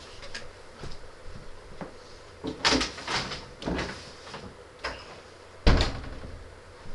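A door being shut, heard as a few knocks, shuffles and handling sounds followed by one sharp, loud thud near the end, close by in a quiet room.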